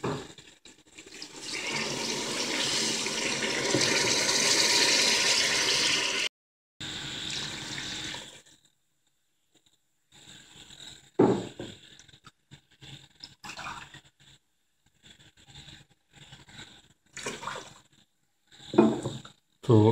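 Water pours into a pot of fried chicken while chicken biryani is cooked, as a loud, continuous gush for several seconds, followed by scattered clinks and splashes.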